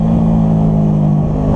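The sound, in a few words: vehicle engine revving as the gear tops out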